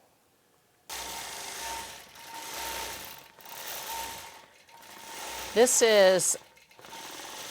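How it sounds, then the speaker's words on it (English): A Statler longarm quilting machine upgraded to Ascend runs at speed 17, producing a rhythmic mechanical chatter in repeated bursts after a silent start, with someone speaking briefly near the end. "my Statler has been upgraded to the Ascend, and it is sewing at 17 speed right now"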